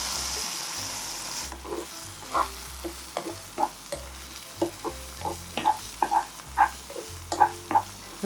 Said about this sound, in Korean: 야채가 다 볶아졌으면 계란을 넣어줍니다.